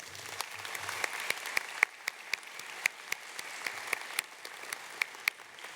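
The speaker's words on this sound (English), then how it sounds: "Please join me in a round of applause." An audience at a high school graduation ceremony claps in a fairly faint, distant round of applause, with individual sharp claps standing out over a soft crowd background.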